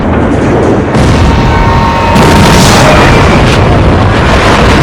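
A loud, sustained explosive roar fills the whole stretch, a dense rumbling blast that surges again partway through, with no voices.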